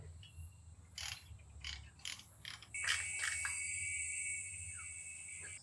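Hand tools refit the bash plate on a Kawasaki KLX 110 motorbike: a run of quick ratcheting clicks, then a steady high mechanical whine that holds for several seconds, close and fairly quiet.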